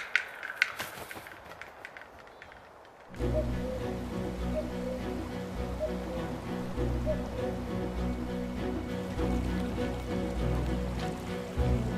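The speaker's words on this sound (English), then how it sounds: "clouds from the Pacific Ocean bring plenty of rain to nurture the lush woodland" Rain falls in lush woodland, first as a sparse, faint patter and then as a sudden, steady, dense hiss of drops that continues evenly to the end.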